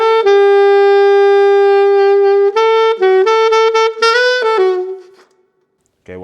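A saxophone plays a melody: a long sustained note, then a run of shorter phrased notes, fading to silence near the end. The tone is clear and close, with no talking.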